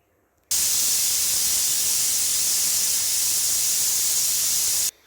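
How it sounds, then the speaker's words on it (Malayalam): Pressure cooker cooking rice and dal lets off a steady, loud steam whistle that starts abruptly, holds as an unbroken hiss for about four seconds, then cuts off. "ഇപ്പോൾ 2 വിസിൽ വന്നു."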